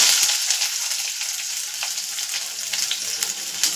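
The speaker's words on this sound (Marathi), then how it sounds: "हे काजू पण थोडे तेलामध्ये परतून घेणार आहे. तिथे मी कढईमध्ये तेल गरम करून घेतलंय 1 चमचा." Cashews fry in a spoonful of hot oil in a kadhai, with a loud, continuous, close-up sizzle and crackle and occasional stirring.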